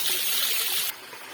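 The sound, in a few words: small waterfall stream flowing in jungle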